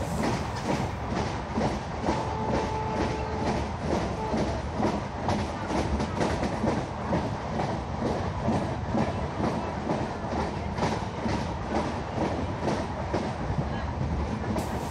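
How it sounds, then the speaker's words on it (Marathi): The Vivek Express passenger train from Bandra Terminus rolls along the rails toward Borivali. Its loud, continuous rumble and rhythmic clickety-clack of wagon wheels runs from start to finish, with a faint squeal early on. "अर्ध्या तासाच्या प्रवासानंतर आपली ट्रेन पोहोचत आहे तिच्या पहिल्या स्टॉपला म्हणजेच बोरीवलीला"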